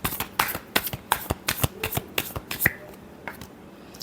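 Tarot cards are shuffled in a quick run of crisp riffling bursts, close and fairly loud, thinning out toward the end with no voices.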